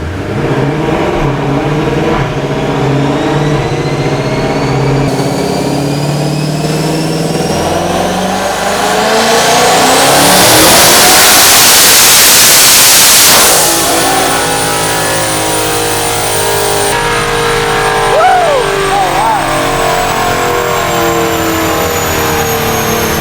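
Turbocharged CX1600TT engine with an SSP clutch revving hard under boost, a loud continuous roar that climbs in pitch, peaks near the middle with a broad blast of whooshing noise, then drops back and holds steady.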